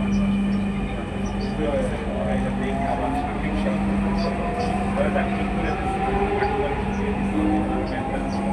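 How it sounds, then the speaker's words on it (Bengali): A Dhaka metro train bound for Motijheel runs with a steady low rumble and a humming tone. Onboard announcements play over the rumble. "ট্রেনটির গন্তব্যস্থল মতিঝিল।"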